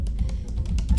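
Rapid, light keystrokes on a computer keyboard tap in quick succession during a login, close and fairly clear over a low background hum.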